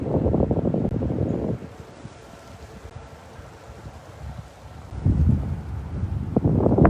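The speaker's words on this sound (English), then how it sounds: "And the wind is welcoming us here right now." Strong gusts of wind buffet the microphone on a mountain summit, loud rumbling bursts at the start and again near the end with a calmer whooshing lull between them; no one speaks.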